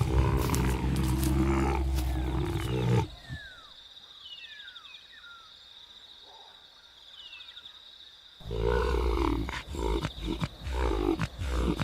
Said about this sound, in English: They fight to assert leadership within the pride while keeping watch over the aging lioness.